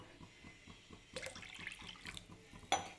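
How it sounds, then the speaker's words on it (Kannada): Water poured from a tap or vessel into milk in a home kitchen while making kheer, a steady close splashing pour with a sharp clink near the end. "ಅದಕ್ಕೆ ಸ್ವಲ್ಪ ನೀರು ಮಿಕ್ಸ್ ಮಾಡ್ಕೊಳತ್ತೇನೆ ನಾನು."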